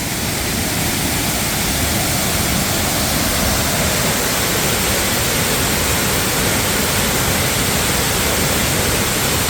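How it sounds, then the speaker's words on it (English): Waterfall at Paronella Park in the Australian rainforest, a steady, loud, broadband roar of falling water heard up close, continuous and unchanging throughout with no voices over it. "obviously a waterfall"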